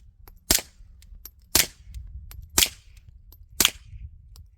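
Four supersonic .22 rifle rounds fired through a Huxwrx Flow Ti titanium suppressor, evenly spaced about a second apart, each a crisp, close crack over a low background hum.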